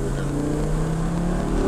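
A 2024 Audi S3 with an Integrated Engineering tune runs at full throttle in sport mode, a brief, steady, loud engine drone heard from inside the car.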